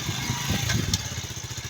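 A motorcycle engine runs steadily close by with a low, throbbing pulse, fairly loud and with no talk over it.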